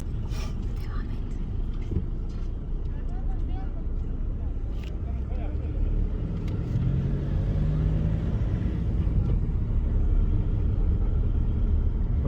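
Inside a car cruising slowly through the town of İskilip while searching for a parking spot, a steady low engine and road rumble continues throughout, with people talking over it.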